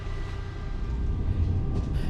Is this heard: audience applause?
no